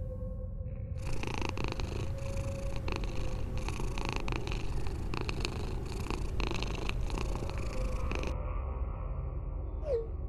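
A deep, continuous cat purr from a cartoon rumbles close and steady throughout, with a buzzing layer over it for most of the clip that fades near the end.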